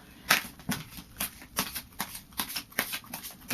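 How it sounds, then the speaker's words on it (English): Tarot cards being given a final shuffle before a reading, a quick run of crisp papery riffs and flicks repeating in an uneven rhythm, close and fairly quiet with no talking. "that's why I'm going to do a final shuffle"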